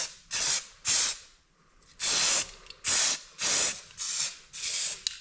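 Short bursts of aerosol spray paint hiss repeatedly onto a cleaned VW Beetle engine rocker cover from a 1974 car, about eight close, loud sprays separated by brief pauses.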